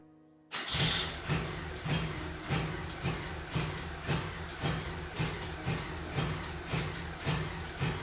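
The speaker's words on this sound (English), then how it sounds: "I have a running engine for now." A Kohler CV26 V-twin engine on a Craftsman GT6000 riding mower starts abruptly from quiet and settles into a loud, close, lumpy idle with a regular pulsing beat throughout.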